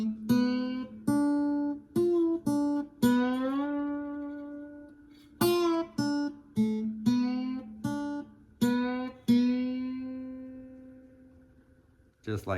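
An acoustic slide blues guitar riff in open D tuning. Plucked notes with sliding pitch bends come in several repeated phrases, close and clear, and one note is cut short by a pull-off, with no one talking.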